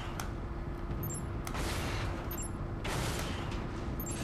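Video-game gunfire from Toy Soldiers: Cold War comes in rapid bursts of auto-targeted shots over a constant low rumble, with sharper volleys at intervals.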